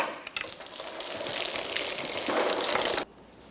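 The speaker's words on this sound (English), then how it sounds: "Coolant will make its way out from here." Coolant gushes and splashes steadily from a Jeep Patriot's engine water pump, a continuous wet hiss that builds and then cuts off abruptly near the end.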